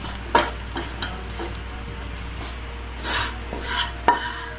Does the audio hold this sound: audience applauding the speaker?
no